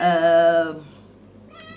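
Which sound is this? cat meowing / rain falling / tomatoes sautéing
cat meowing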